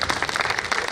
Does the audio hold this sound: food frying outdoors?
no